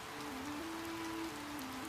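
Steady rain falls in a rural village setting, a continuous even hiss of drops on surfaces, moderately loud and unbroken, with a faint sustained tonal hum running underneath and no voices.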